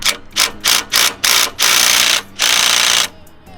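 Ratchet with a 13mm deep socket working a bolt loose, several bursts of rapid close clicking, the last two pulls long and steady, with no voices.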